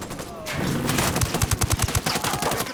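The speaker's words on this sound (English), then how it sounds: "I'm opening fire." Rapid bursts of automatic gunfire in the video game Ghost Recon Wildlands, a dense string of punchy shots over a constant roar of background noise and game sound.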